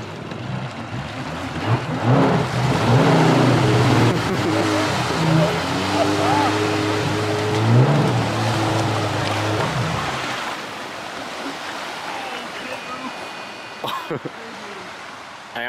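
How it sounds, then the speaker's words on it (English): A jet ski engine drones steadily on the water, close and loud, for about ten seconds before easing off, with splashing and wind around it and people talking over it. "This is the second time ever I've been on a jet ski."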